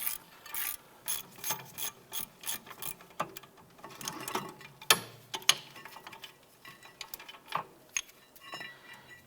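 A wrench works loose a caliper bracket bolt on the rear brake of a 2006-2011 Cadillac DTS, with quick ratcheting clicks and small metallic clacks that come in irregular bursts at close range.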